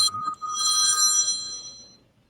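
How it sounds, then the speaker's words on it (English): A telephone rings close and loud, one sustained electronic bell trill lasting about two seconds before fading out, with no voices over it. "he just rang Ben again, but I couldn't hear anything"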